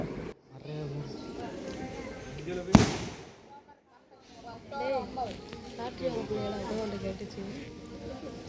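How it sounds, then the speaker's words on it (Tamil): Firecrackers go off at a Kerala temple festival, one sharp loud bang standing out among scattered pops, with people talking throughout. "நம்மளும் வெடியை போட்டுட்ருக்கோம் பாருங்கள்"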